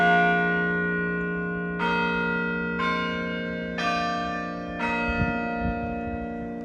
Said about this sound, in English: then the chimes went on